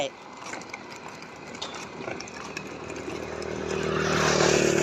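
A hand tractor engine putters steadily at a distance, its hum growing louder toward the end, under people talking outdoors on a rural garden farm.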